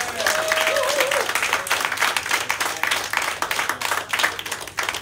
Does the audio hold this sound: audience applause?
yes